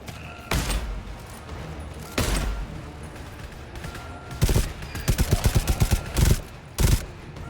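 Sentry gun in the video game GTFO firing: several single loud bursts, then a rapid run of about ten evenly spaced shots followed by two more heavy blasts, close and punchy over a low background hum.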